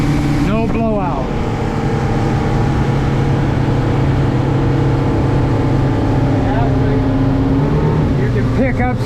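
A boat powered by twin new F150 outboard engines runs through a turn on a water test, a loud steady engine and hull roar close to the mic with wind, and someone talking over it.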